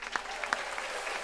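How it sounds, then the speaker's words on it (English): A short burst of canned applause triggered from an applause button, brief clapping of about a second that rises and fades quickly at moderate volume. "I get to use my first applause button"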